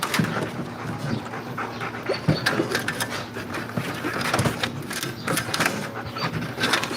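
Puppies panting close by in quick rhythmic breaths, with scattered small clicks and shuffles throughout and no talking.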